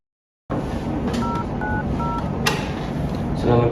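Telephone dialing tones as a call is put through: a short run of beeping keypad tones over a steady background hum, with a soft click near the end.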